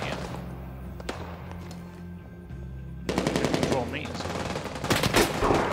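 Rising Storm 2: Vietnam combat in urban Hue City: a quiet stretch with a few distant shots, then sudden loud rapid automatic gunfire in fast rhythmic bursts close by.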